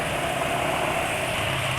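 A motorcycle engine idles steadily after a Meditran SX Bio oil drain at 1900 km, producing a continuous, even mechanical hum with constant low vibration at close range, no voices present.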